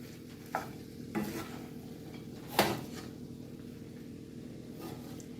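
Bacon stirred back into a Brussels sprouts quesadilla filling in a pan. A few distinct scrapes and clunks of a utensil rise over a soft, steady sizzle, and the loudest stroke comes near the middle.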